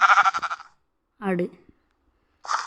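A goat in the video game Minecraft bleats in short, wavering cries, with brief silent gaps between them and a voice talking nearby.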